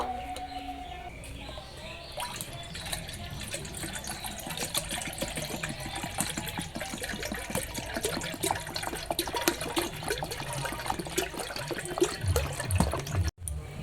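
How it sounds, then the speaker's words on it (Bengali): Sweet date palm juice being poured through a strainer, a steady trickling liquid flow running continuously throughout, with faint birdsong in the background and a brief knock near the end. "রসগুলো আমি ছাঁকনি দিয়ে নিয়ে নেব।"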